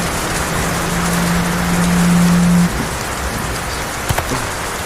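Light drizzling rain falls in the Philippines, a steady soft hiss throughout, with a faint low hum for part of the time and a couple of small knocks near the end.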